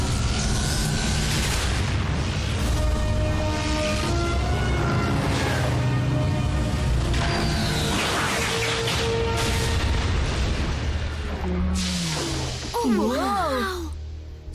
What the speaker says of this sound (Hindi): वो धमाका किसने किया?